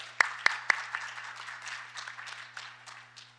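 A short burst of applause from a conference audience, opening with a few sharp claps and then fading into softer scattered clapping.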